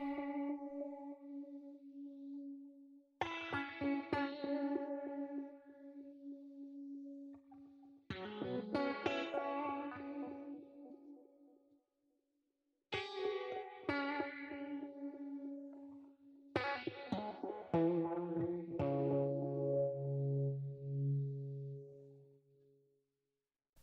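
Electric guitar and bass recorded direct and processed with GarageBand FX presets, phrases of effected guitar notes over sustained bass tones, separated by brief pauses, moderately quiet and without speech.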